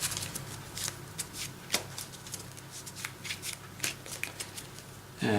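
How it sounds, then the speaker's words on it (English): Close, quick riffles and flicks come from a Yu-Gi-Oh Pendulum Magician deck being shuffled by hand in a rapid run of soft, crisp card snaps, ending with a brief thump. "just give this a quick shuffle"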